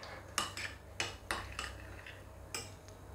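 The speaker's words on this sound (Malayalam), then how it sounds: "കട്ടയില്ലാതെ നല്ലവണ്ണം ഇങ്ങനെ മിക്സാക്കി എടുക്കണം" A spoon clinks and taps against a bowl while a milk pudding mixture is stirred smooth, about six sharp close knocks in irregular rhythm over a quiet background, with no talking.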